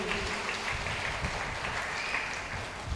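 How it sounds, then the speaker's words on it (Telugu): A church congregation claps loudly together in a sustained, dense burst of applause lasting a few seconds. "గట్టిగా చప్పట్లు కొడదామండి."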